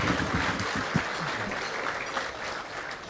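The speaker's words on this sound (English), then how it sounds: "Gentlemen, please give those ladies a big round of applause." Audience applause at a gala awards evening, a dense steady wash of clapping that carries evenly from start to end without speech over it.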